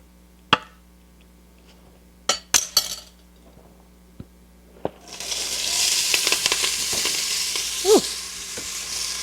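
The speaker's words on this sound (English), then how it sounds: "And we're going to throw them in the hot bacon grease." A few sharp clinks and knocks of utensils come first, then food hits hot bacon grease and a loud, steady, close sizzle takes over to the end.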